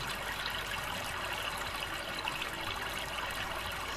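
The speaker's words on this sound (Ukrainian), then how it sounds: "Струмочок." A small stream trickles and burbles steadily, a continuous close wash of running water with no other sounds.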